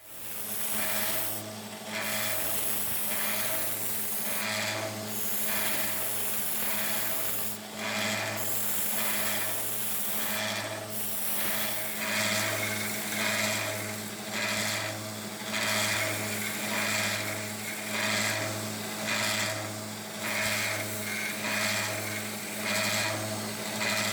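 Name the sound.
sanding metal drill bit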